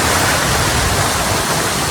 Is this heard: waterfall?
yes